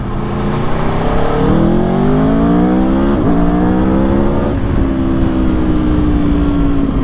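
Aprilia Tuono V4 Factory 1100 motorcycle accelerating hard through the gears, loud close engine snarl climbing in pitch with quick shifts and wind rush.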